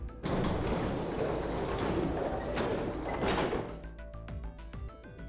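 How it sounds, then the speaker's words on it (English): Metal gate in the video game Zero Escape: 9 Hours, 9 Persons, 9 Doors, a loud sustained grinding, scraping rumble as it is pushed open, tailing off into rattling mechanical clanks, with no voices. "they both pushed and the gate creaked open."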